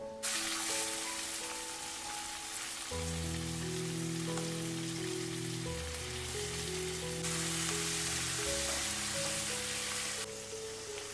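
Onion and tomato frying in oil with asafoetida, curry leaves, and crushed ginger and garlic give a steady, close sizzling hiss that continues throughout, with music playing over it.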